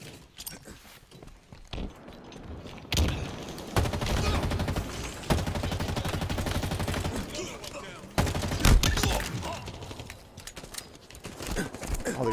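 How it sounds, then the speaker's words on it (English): Stick grenades and gunfire in Halo Infinite multiplayer: bursts of shooting and grenade blasts come close and loud in dense clusters, with footsteps, brief lulls between the volleys and some talk mixed in. "That's a lot of stick grenades."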